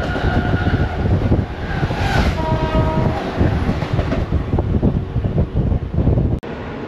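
A Mumbai local train runs loud and close at night, with a dense rolling rumble and clatter and a brief horn tone partway through.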